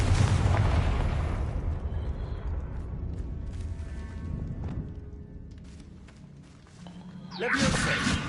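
The Confringo blasting spell goes off in the game Hogwarts Legacy, a loud, deep booming explosion that rumbles and fades over several seconds before a second sharp crackling burst erupts near the end.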